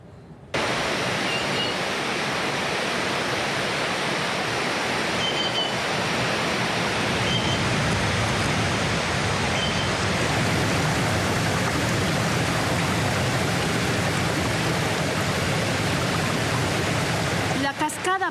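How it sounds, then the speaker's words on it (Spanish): Cascada Mágica plunging 50 metres in El Chaco municipal reserve, Napo, Ecuador: a dense, steady roar of falling water, loud and unbroken for the whole stretch, with a faint voice under it. "Cascada Mágica se desploma 50 metros sobre la Reserva Municipal El Chaco en la provincia de Napo"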